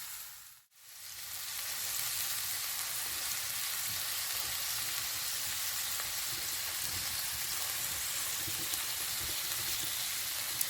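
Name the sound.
olive oil sizzling in cast iron pan over campfire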